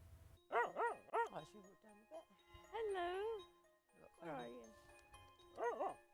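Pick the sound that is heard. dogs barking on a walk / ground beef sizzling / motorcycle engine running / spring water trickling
dogs barking on a walk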